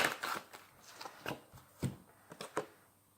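Tarot cards are shuffled and handled up close, giving a string of soft riffling slaps and flicks at an uneven pace in a quiet room.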